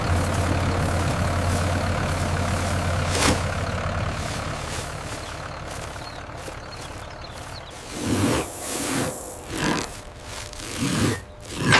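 A truck engine idling steadily as it is eased forward onto a weighing scale at a wheat farm, a low constant rumble with a brief rev, then irregular louder surges and clunks near the end.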